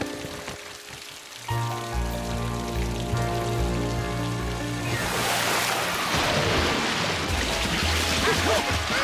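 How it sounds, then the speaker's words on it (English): Cartoon rain falls steadily on a camping trailer, a continuous hiss that swells louder partway through, with a low musical score sounding beneath it. "They didn't know how long it had rained"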